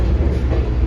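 A Christmas train rolls past close by in Indiana, giving a steady, loud low rumble of wheels and cars throughout the brief moment, with no voices.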